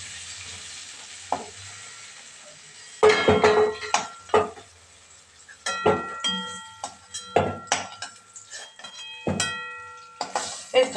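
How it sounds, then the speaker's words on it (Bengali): Potatoes with cabbage, cauliflower, carrot and beans frying in a pan, a low sizzle broken by repeated sharp metallic clanks and scrapes of a utensil stirring against the pan, loud and close with irregular rhythm. "আলুটাকে ভালো করে ভেজে নিলাম।"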